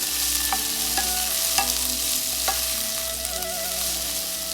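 Vegetables with green onion being sautéed on high flame for a Chinese vegetable sizzler, a steady hiss of frying with scraping stirs and metal clinks, close and continuous with no talk.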